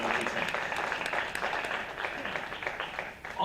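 An audience applauding candidates at a political breakfast forum: steady, moderately loud clapping from a seated crowd throughout.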